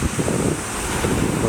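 Strong wind buffeting a microphone at a seashore in Mugi during Typhoon No. 7, with a steady low roar and gusts alongside calm surf near high tide, continuous and close throughout.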